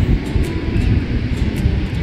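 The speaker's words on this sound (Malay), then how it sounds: "Angin kuat lah kat sini." Strong wind sweeps across Kempadang Beach at high tide, producing a steady, loud, low rumbling roar with gusty buffeting throughout and no voices.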